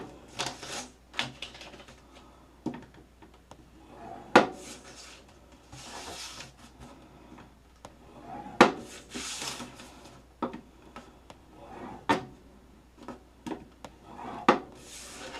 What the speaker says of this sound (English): we are going to score these at 1/2 inch